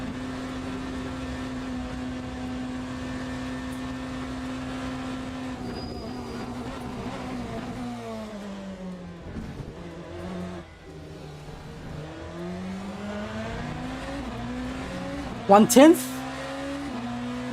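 A BMW race car in Le Mans Ultimate holds a steady engine drone, then the pitch drops and climbs again through downshifts and acceleration for a chicane, ending with a brief sharp squeal; a voice speaks over it.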